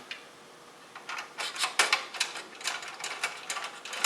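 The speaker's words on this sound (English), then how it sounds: "So I'm taking all the screws out now and everything's just going to fall out." Screws are backed out of the front panel of a prober-style bed of nails test fixture, a quick series of close ratcheting clicks and mechanical rattles in rapid rhythm.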